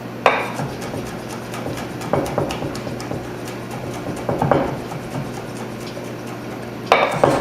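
A knife chops garlic on a cutting board with sharp, scattered knocks at irregular intervals, the loudest near the start and end, over a steady low kitchen hum.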